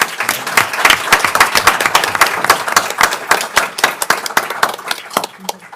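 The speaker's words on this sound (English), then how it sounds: "So can we give them another round of applause?" A room at a school board meeting breaks into a round of applause, dense steady clapping from many hands that thins out and fades toward the end.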